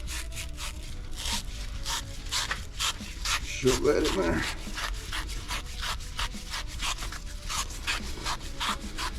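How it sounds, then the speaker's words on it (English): A wire brush scrubs rapidly back and forth over metal on a snowblower engine swap in a steady rasping rhythm, with a brief spoken remark partway through. "Got a wire brush."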